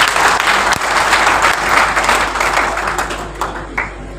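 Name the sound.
applause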